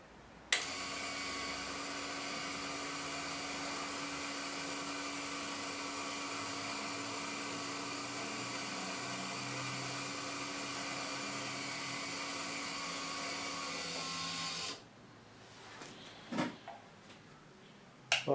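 A camera slider motor runs at maximum speed with a steady, even mechanical whine for about fourteen seconds, then stops, leaving a few faint clicks and handling knocks.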